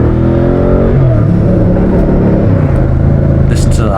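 A V100 S model motorcycle engine revs on open country roads, a close, loud, throbbing drone that holds steady throughout.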